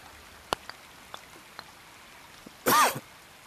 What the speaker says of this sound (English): Got some coughing going on here.